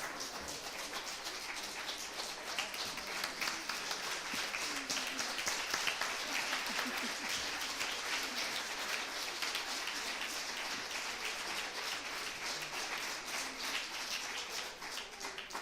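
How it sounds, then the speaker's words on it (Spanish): Sustained audience applause at a talk, a steady wash of many hands clapping for the whole stretch, moderately distant with faint voices beneath. "voy a pedir otro aplauso y grabaros"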